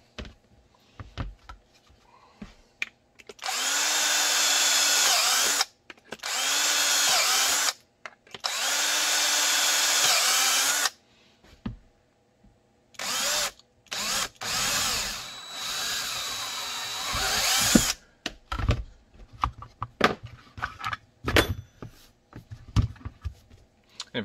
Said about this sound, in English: Drill the holes after, so it's perfectly in the right spot.